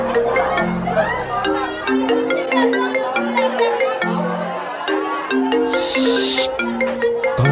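A phone rings in an Indonesian radio horror drama, a repeating melodic ringtone of short stepped tones running throughout, fairly loud and up front, with a brief noisy burst near the end.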